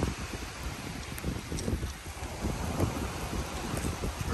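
Steady rain falling outdoors by a river during a handline fishing trip with kids, a constant hiss mixed with gusting wind noise, with no talking.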